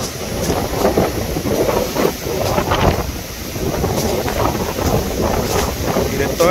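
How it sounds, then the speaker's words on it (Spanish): Rough sea near Puerto, with heavy waves crashing and surging in repeated bursts while strong wind buffets the microphone, loud and continuous. "Qué brutal esa marea, esa ola, mira."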